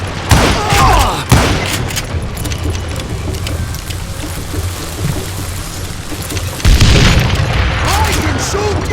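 Heavy gunfire in the Western video game Call of Juarez: Gunslinger: loud booming shots at the start and end over a constant rattling din of fire and effects.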